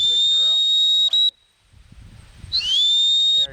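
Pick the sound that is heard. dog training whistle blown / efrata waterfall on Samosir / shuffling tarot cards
dog training whistle blown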